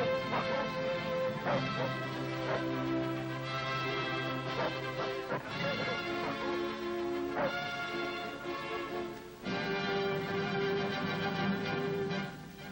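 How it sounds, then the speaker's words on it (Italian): Sled dogs barking in a Karelian forest during wartime, several dogs yapping and yelping close by in quick, overlapping bursts with whimpers mixed in, loud and continuous throughout. "I cani sono anche tradizionali animali da traino per slitte, per il trasporto dei feriti sui campi di neve."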